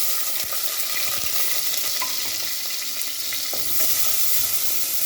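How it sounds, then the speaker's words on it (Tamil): Onions frying in hot oil with cinnamon and fennel to temper a mutton and radish curry, giving a steady close sizzle with occasional stirring clicks throughout. "எல்லாம் போட்டு தாளிச்சுக்கலாம். வெங்காயம் போட்டுக்கலாம்."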